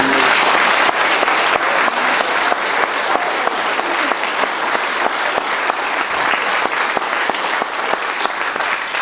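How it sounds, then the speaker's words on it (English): A crowd at a retirement party applauds steadily, dense clapping sustained throughout with no pause, fairly loud and close. "Give him a round of applause for that"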